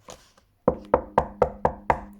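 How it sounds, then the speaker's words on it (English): Six sharp, evenly spaced knocks on a door ring out close and loud in quick succession, each with a short wooden resonance, after a brief murmur at the start. "Knock, knock, knock."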